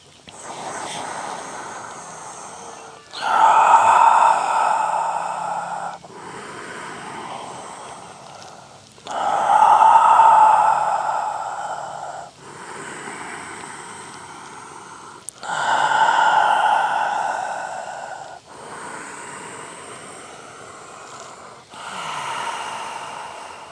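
Deep, slow breaths drawn in and let out while someone holds a yoga pose during a spine and core strength flow, about four long audible inhale-exhale cycles, close and fairly loud, with no talking.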